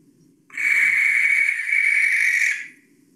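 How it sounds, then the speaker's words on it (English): A single long, harsh, hissing screech from a barn owl, lasting about two seconds, loud and close against a faint background. "play the sound by Katie if we can, so that people hear the noise that barn owl makes"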